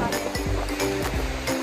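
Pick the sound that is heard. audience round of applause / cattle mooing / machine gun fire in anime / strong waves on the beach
strong waves on the beach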